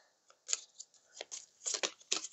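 A deck of game cards from the Marvel Zombies: Heroes' Resistance board game being shuffled, a short run of quick crisp riffling flutters and soft card slaps, close and quiet.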